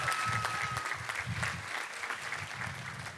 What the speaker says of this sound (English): Give a big round of applause for Jalissa.